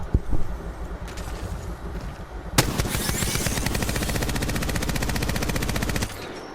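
The Devotion energy machine gun fires in Apex Legends, a few loose shots and then a long sustained burst of very rapid, evenly spaced rounds that spins up and then stops abruptly, close and loud.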